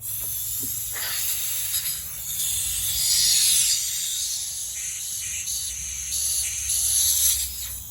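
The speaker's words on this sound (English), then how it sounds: "I'm gonna go ahead and try to maybe blow some compressed air through it." Compressed air hisses through a drain passage on a free Chinese TaoTao 50 scooter. The air comes in loud, close, sustained bursts that swell and ease over several seconds, with no talking.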